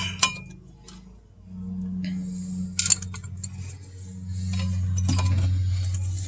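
Brake pads on a 2011 Chevy Impala being popped into and out of the brake caliper make sharp metallic clicks and clinks, a few separate knocks heard close up with no talking.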